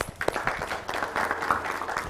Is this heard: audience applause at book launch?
yes